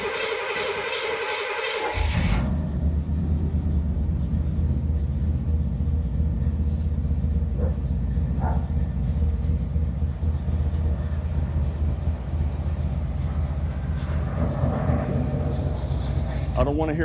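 A rebuilt engine in a 1981 Corvette idles and warms up with a steady low rumble that holds throughout, while people talk over it.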